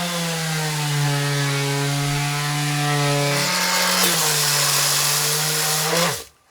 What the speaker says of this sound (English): let's get out the sander and we'll get this stuff vibrated in.